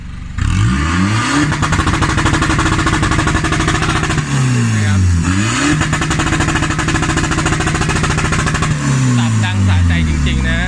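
A tuned Isuzu D-Max 2.5 pickup with a boost box is revved hard against its rev limiter. The engine rises in loud, close sweeps and stutters at the cut several times, with someone talking over it.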